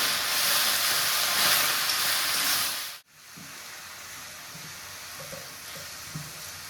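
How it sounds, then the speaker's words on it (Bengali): Pea-shoot greens fry and sizzle in a pan with a steady hiss, broken by a brief silence, then quieter crackling and soft stirring scrapes. Salt is being added. "এটা আমি হালকা করে নুন দিয়ে দিলাম, একটু নাড়িয়ে নিয়ে"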